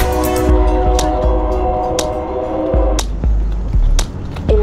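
A train rolls through a Chicago street crossing, its horn sounding in long blasts at the start, with rumbling wheels and sharp clanks continuing beneath, heard loud and close from a bicycle.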